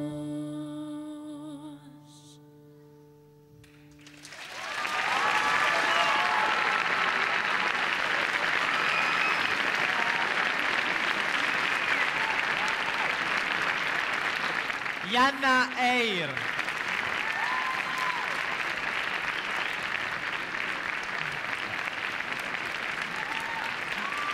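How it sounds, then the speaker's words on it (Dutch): A large audience at the Liet International 2011 song contest applauds at length, a steady dense roar of clapping that follows a few seconds of quieter music, with brief voices partway through. "Dat was mij een heel lang applaus"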